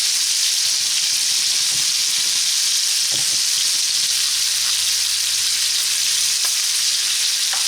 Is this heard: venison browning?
yes